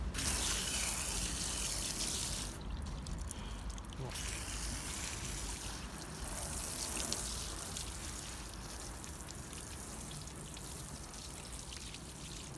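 Water rinses over a car freshly treated with Turtle Wax Ceramic Wash & Wax, a soft continuous splashing and trickling heard faintly at a distance.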